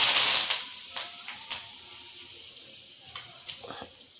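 Curry leaves hit hot oil already crackling with mustard seeds, giving a burst of bright, loud sizzle at the start that settles into a steady spitting crackle with scattered pops.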